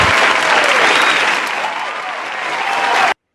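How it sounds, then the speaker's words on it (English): A talk-show audience gives a sustained round of applause, steady and fairly loud throughout, then it cuts off abruptly. "put our hands and give him a round of applause."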